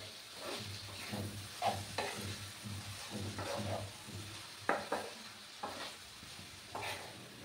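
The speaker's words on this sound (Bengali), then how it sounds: "সবজিগুলোকে ভালো করে ফ্রাই করে নিতে হবে।" Vegetables for semolina upma fry in a pan and are stirred in regular strokes, each scrape rising over a soft, continuous sizzle, heard close with no talking.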